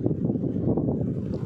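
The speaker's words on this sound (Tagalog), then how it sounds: "napakahangin na araw ngayon" A strong wind on a very windy, cold day buffets the microphone, a close, continuous low rumbling roar without any break or voices.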